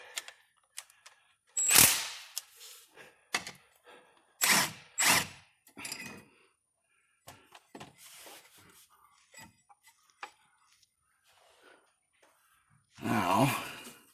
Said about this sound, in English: I'm going to undo this bolt here with the hopes that I don't drop this sucker.